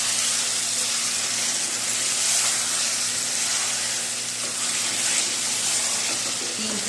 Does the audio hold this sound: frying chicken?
yes